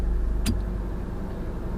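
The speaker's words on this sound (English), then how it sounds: "You have to drive on the gravel road." Steady, loud rumble of a car driving along a gravel road during a food delivery run, with a continuous engine and tire noise and a brief higher rattle early on.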